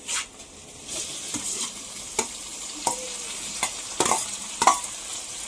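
Onions being stirred and fried in a pan, a steady sizzle broken by repeated sharp scrapes and knocks of the spoon against the pan, close and fairly loud with no talking.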